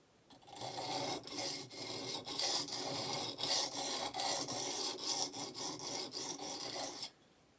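A knife blade being sharpened at a 35-degree angle, a rapid series of close, harsh rasping strokes of metal against an abrasive, with short pauses between them, then stopping abruptly.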